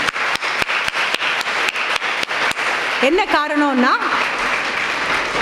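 An audience of nursing students claps in a steady, sharp burst of applause for several seconds, then a speaker's voice comes in over fading clapping.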